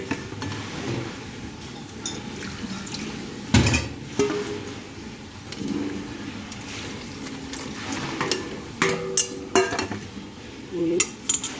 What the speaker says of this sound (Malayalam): അത് കഴിഞ്ഞ് നമുക്ക് അരിപ്പൊടി മിക്സ് ചെയ്യാം.